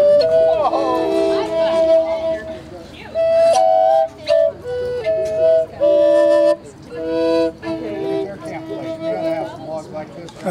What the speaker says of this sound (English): double flute, and sounds like this. The left side is a drone, and it's this note.